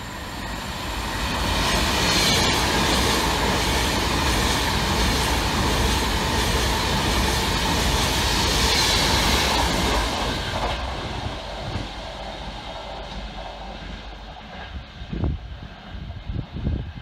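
A train rolls loudly along the platform at Coventry railway station on an Avanti West Coast line, a sustained rumbling roar with wheel noise that fades after about ten seconds, leaving scattered clanks and knocks.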